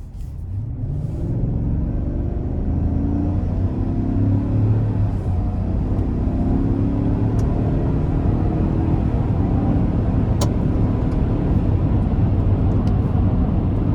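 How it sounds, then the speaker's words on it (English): A 2025 Chevy Suburban LS accelerating gently from inside the cabin: a steady low engine and road rumble that builds slightly and holds, with no talk. "I'm just gonna give it a little acceleration."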